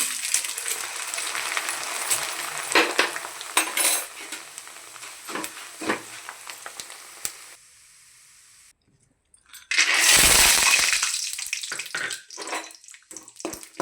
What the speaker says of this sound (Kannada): ಕಡಲೆ ಬೀಜ ಫ್ರೈ ಮಾಡ್ಕೊಳ್ಳೋಣ